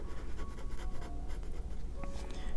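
A pen scratches steadily across paper, shading in a cast shadow on a music-themed doodle; the soft, continuous scribbling is close and alone, with no talking.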